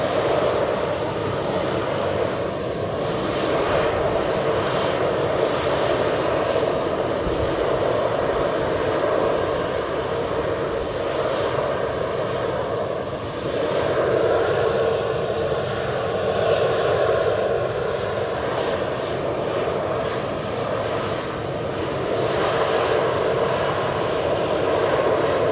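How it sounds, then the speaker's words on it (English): Logan Air propeller aircraft arriving at Manchester Airport, a steady broadband engine drone held at moderate distance throughout, swelling slightly in places with no talk over it. "Got prop just arriving"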